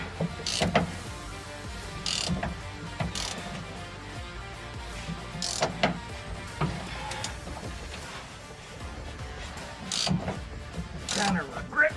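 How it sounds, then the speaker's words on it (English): A swivel ratchet clicks in repeated bursts while working on the rusty underside of a 2007 GMC Sierra 2500 Duramax during an air bag installation. Near mechanical ratcheting with brief pauses between strokes. "kind of regretting my decision on the swivel ratchet. Oh well. It's working."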